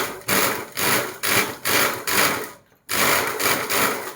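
A sewing machine stitches a cap in several loud, even bursts of running needle clatter, each separated by a short pause, with one longer silence before the final two runs.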